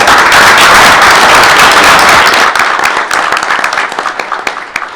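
An audience at a school board meeting gives a dense, loud round of applause that holds for a few seconds, then thins into scattered individual claps before stopping.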